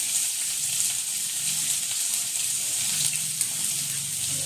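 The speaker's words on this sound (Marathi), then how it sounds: "कांदा छान परतून घ्यायचा." Finely chopped onion frying in a pan for chole masala gives a continuous soft sizzle with a watery hiss. The sound is steady and close, with faint low rumbling underneath.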